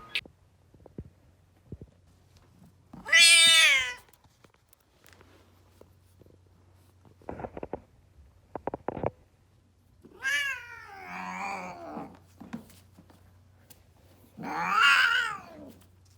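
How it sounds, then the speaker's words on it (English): A cat in labor lets out several loud, drawn-out, strained meows spaced apart over a low steady hum, with quiet rustles between cries. "I've never heard her meow like this."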